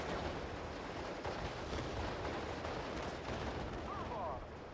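Off-map artillery barrage in the Steel Division: Normandy 44 war game, a dense, continuous roar of rumbling blasts and gunfire held at steady loudness throughout, with no clear gaps between impacts.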